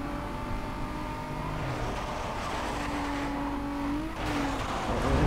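A car in Need for Speed Most Wanted 2005 slides while its engine drones at high revs, with a shifting pitch and a rough tire-scrub texture under the steady, loud game audio.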